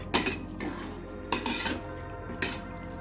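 A spoon scrapes and clanks against a cooking pot while curry is stirred, three distinct stirring strokes with metallic knocks over a faint sizzle, close and fairly loud.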